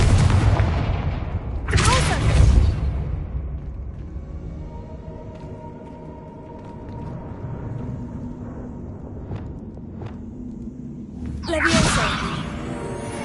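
Spell blasts from Confringo being cast in the wizarding video game Hogwarts Legacy, two loud broadband bursts about ten seconds apart with a rumbling tail, over a low game backdrop.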